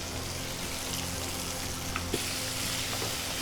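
Drumstick (moringa) and coriander leaves fry with chana dal, urad dal and peanuts in a pan for chutney, giving a steady, close sizzle with faint stirring clicks, with no talking.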